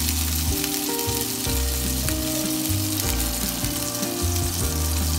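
Cubes of wagyu steak fry with garlic in a hot pan, giving a loud, steady sizzle and crackle with occasional stirring and spatters, close up and continuous without talk.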